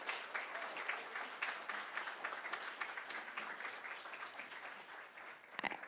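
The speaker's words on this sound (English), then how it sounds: "can we give them a wonderful round of applause?" A crowd at a community college climate event gives a round of dense, continuous applause. It sounds fairly quiet and distant, with a few louder claps near the close.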